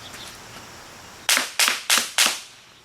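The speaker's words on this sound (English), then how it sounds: "Now I'm going to drop some rounds at 20 feet." Four quick, evenly spaced handgun shots ring out at a target from 20 feet during a law enforcement qualification, each sharp crack close and loud with a brief fading tail.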